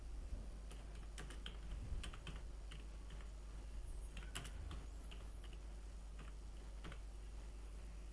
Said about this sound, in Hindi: यहाँ पे आप अपना एड्रेस टाइप कर दीजिए।